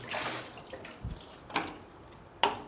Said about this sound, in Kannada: ಇದಕ್ಕೆ ಸ್ವಲ್ಪ ನೀರನ್ನ ಸೇರಿಸ್ತಾ ಇದ್ದೀನಿ